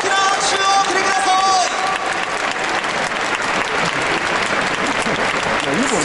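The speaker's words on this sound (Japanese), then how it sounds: "大きな拍手を送りください" Stadium crowd applauding after a ceremonial first pitch at a Yomiuri Giants versus Tokyo Yakult Swallows baseball game, a loud, dense sustained clapping wash throughout, with a voice over the stadium speakers near the start.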